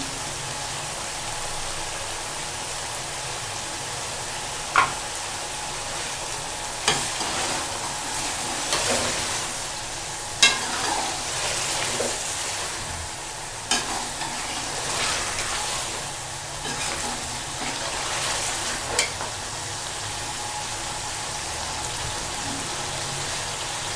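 Chicken karahi cooking in a pan on a medium flame, giving a steady close sizzle and bubbling hiss with occasional sharper pops and spatters throughout. There is no talking.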